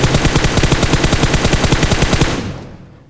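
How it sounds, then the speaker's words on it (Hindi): Rapid automatic gunfire in a mobile battle royale shooter, a loud close burst of evenly spaced shots lasting a few seconds before cutting off and fading, with no talking. "मैंने उसको शॉट्स दी कि शायद वो बाहर आए"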